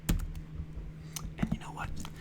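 Soft computer keyboard typing, a few light key clicks close to the mic, with quiet whispering over the taps.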